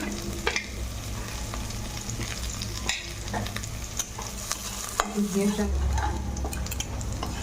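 Chopped garlic, ginger and green chili frying in ghee in a pan for chili chicken, a steady close sizzle with clinks of a spoon or spatula stirring against the pan and a few sharper knocks.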